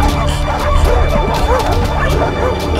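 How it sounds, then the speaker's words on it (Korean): A dog barks aggressively in rapid repeated bursts mixed with yips and whimpers, loud and close over a busy background, with a voice heard faintly in the mix. "관계자를 향해 공격적으로 짖어대는"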